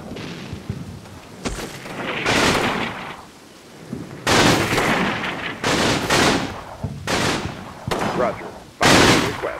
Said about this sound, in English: some heavy machine gun teams are posted up on the ridge line, and they're trying to suppress my trenches there